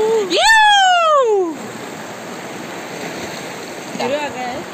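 Cold river water by a village fort on a sunny day splashes and bubbles in a steady rushing wash, opened by a sliding voice-like squeal near the start and a shorter cry near the end.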